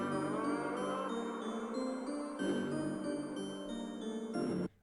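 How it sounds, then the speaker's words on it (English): A song slowed down with heavy reverb applied in CapCut, sustained washed-out musical tones with a smeared, echoing tail, playing steadily before cutting off at the end. "So if I now play this song, which has been slowed and reverbed"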